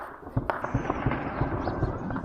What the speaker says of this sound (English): there's the sound of gunfire with Eid prayers